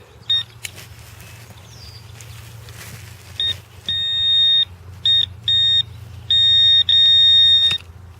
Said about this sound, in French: Je vais repasser avec mon détecteur. Un autre son, juste à côté.